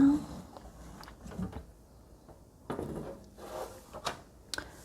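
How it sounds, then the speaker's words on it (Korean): A small indoor plant greenhouse door is opened with a few light wooden knocks, rubs and latch clicks, close by and irregular. A faint voice can be heard in between. "온실문을 열어서"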